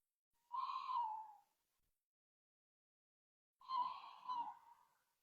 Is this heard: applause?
no